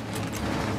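Weapon being reloaded in a video game, a quick burst of mechanical clicking and ratcheting lasting under a second, fairly close and moderately loud against a constant background rumble.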